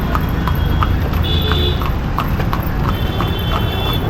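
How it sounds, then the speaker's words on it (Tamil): A horse's hooves clip-clop steadily along a busy street in Jodhpur's Sardar market, the regular knocks sitting over loud traffic rumble and faint tonal beeps. "அப்படியே கம்பீரமாக ஒரு குதிரையில் போகிறது"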